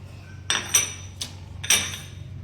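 Knife chopping the ends off fresh okra on a cutting board, about four sharp, close knocks spaced unevenly over a couple of seconds, with no talking.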